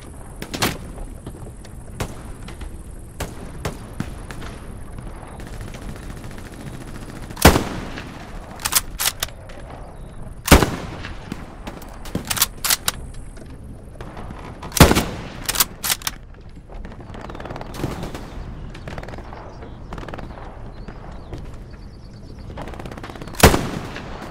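Gunfire in the World War II shooter Hell Let Loose, Soviet offensive at Kursk, with sharp single shots and short bursts cracking at irregular intervals over a low battlefield rumble, some near and loud, others distant.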